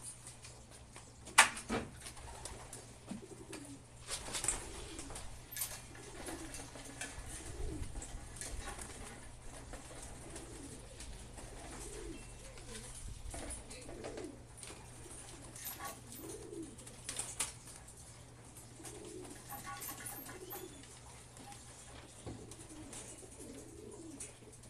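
Pigeons coo repeatedly inside a racing pigeon loft at feeding time, soft low calls recurring steadily over a constant background hum, with a few brief knocks and door sounds.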